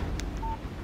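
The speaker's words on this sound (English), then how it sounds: "Text message from Barry." A phone text message alert in Alan Wake Remastered on PS5, a brief electronic chirp followed by a short clean tone, close and clear with no speech.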